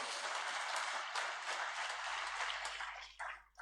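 Church congregation claps in praise, a steady, fairly quiet wash of many hands that runs continuously before tapering off near the end.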